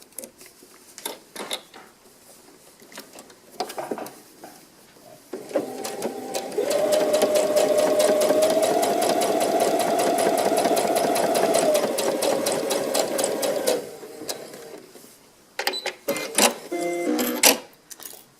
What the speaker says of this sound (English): So I'm going to go ahead now and sew that line.